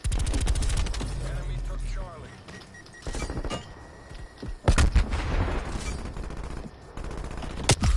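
Automatic weapon fire in the shooter Call of Duty: Black Ops Cold War on PS4, heard as loud rapid bursts with pauses and a few sharp louder shots, while people talk throughout.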